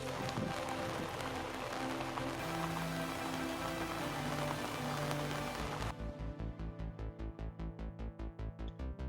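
Steady rain hisses loudly on a surface, shifting near the end into a rhythmic, pulsing patter of drops.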